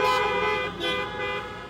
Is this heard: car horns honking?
yes